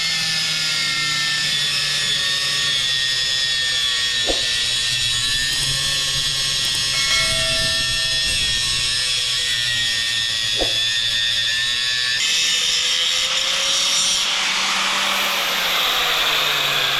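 A grinder or cutting tool takes off the end of a metal shaft during a Predator 670 engine build for a Trackster, a steady loud whine with shifting pitch that runs throughout, brief sharp contacts and no talking.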